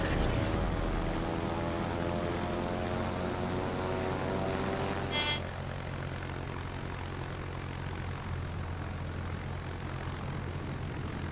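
German carrier aircraft in flight in World of Warships, a steady droning propeller engine hum with layered tones, loud and close, easing slightly midway after a brief sharp burst.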